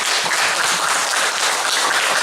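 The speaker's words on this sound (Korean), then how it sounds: "박수도 한번 칩시다." A church congregation applauds during an Easter service, a steady dense wash of clapping filling the room from start to finish with no voices over it.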